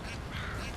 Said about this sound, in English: I'm in the water with duckies!